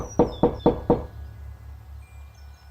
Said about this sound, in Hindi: काका के घर पहुंचा और दरवाजा खटखटाने लगा